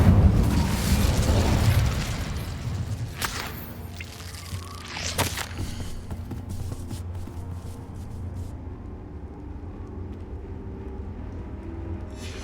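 An Incendio fire spell in Hogwarts Legacy on hard difficulty bursts out with a loud rushing whoosh, followed by a couple of sharp crackling pops that fade into a low ambient hum.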